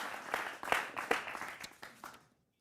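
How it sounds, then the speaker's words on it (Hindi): A small audience claps during a televised Hindi political debate, giving a short burst of loose, uneven hand claps that thin out and stop abruptly. "और देश के युवा हैं, जनता जनार्दन है, जोरदार तालियां उनके लिए।"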